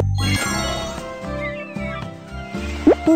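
A cartoon cat meows in a short rising call near the end, heard over bright tinkling music that fills the whole clip.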